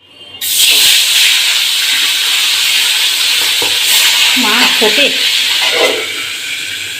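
Pabda fish fry in hot oil in a pan, a loud continuous sizzle and hiss bursting in at the start and holding steady, with faint clinks and stirring sounds partway through.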